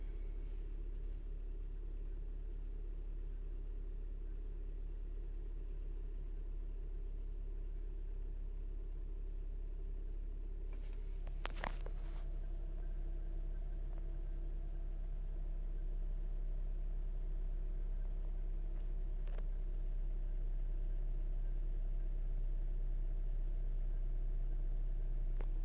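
Chrysler/Dodge car engine idling at about 1000 rpm, a steady low rumble held for the whole stretch with a brief louder clatter partway through.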